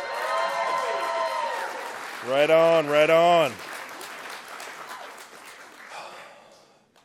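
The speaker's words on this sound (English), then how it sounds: "Why are you not clapping furiously?" An audience at a conference talk session claps, the applause faint beneath someone speaking, with a brief shout partway through and the clapping fading toward the end.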